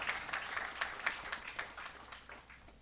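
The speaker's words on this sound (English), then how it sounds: "So please give them yet again another round of applause." Gathering at a religious ceremony applauding a musical duo: a short burst of light clapping from a modest crowd, quiet and somewhat distant, thinning out after a couple of seconds.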